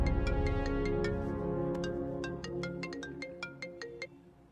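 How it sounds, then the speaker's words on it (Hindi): A melodic electronic ringtone plays a repeating pattern of bright chiming notes, loud and close, with the last notes fading in short bursts. "बिम्बी, तुम्हारे लिए कॉल है"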